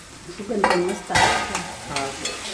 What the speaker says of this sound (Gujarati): ચાલો તો થોડીક વાર હવે સાતળવા દેવી